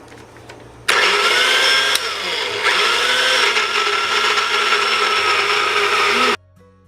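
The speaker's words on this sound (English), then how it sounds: "I'm just going to grind this with a little bit of water" A blender grinding spices with a little water whirs loudly and steadily for several seconds, a harsh grinding roar that starts abruptly and cuts off just as suddenly.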